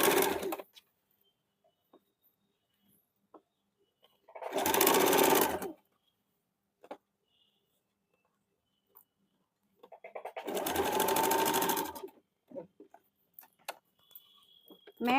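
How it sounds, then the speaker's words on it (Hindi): A sewing machine stitches the folded half-inch side slit of a men's short kurta in two loud, close bursts of rapid mechanical whirring about five seconds apart, with near silence between them. "चूंकि ये 1/2 इंच है, इसलिए 2 दाग पे फोल्ड करके पतला से इसको सिलाई कर लेंगे।"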